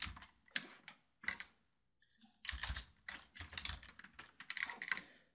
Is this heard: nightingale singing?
no